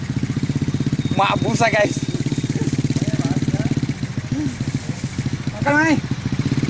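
A motorcycle engine, an ojek taxi hauling rice through a muddy paddy field, chugs and revs in a steady pulsing rhythm while people talk and shout over it.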